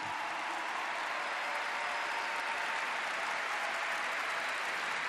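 Audience at a Catholic camp gathering claps loudly and steadily, a dense, sustained wash of applause with no pauses.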